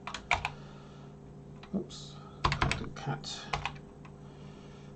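Keys clatter on a BBC Micro Model B computer keyboard in short bursts of quick, close taps with pauses between them, while someone speaks briefly over the typing.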